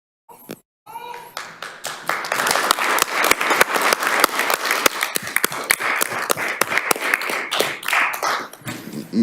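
Audience members at a town council meeting break into applause after a brief pause, the clapping building quickly into loud, crisp, closely spaced hand claps that carry on steadily, with a few voices mixed in.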